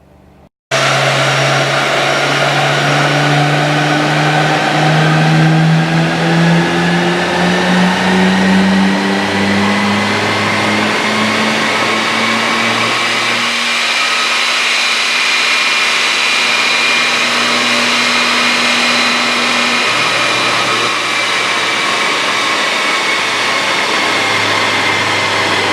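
Nissan Skyline GT-R engine on a dyno pull, a loud sustained roar climbing steadily in pitch as it revs up through the gears, then easing into a steadier drone near the end, with no talking.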